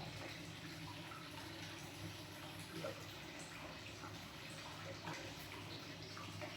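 Water runs steadily in the indoor hot spring bath and shower area of an inn at Kaike Onsen, Yonago, Tottori, Japan, a faint, continuous indoor trickle and splash.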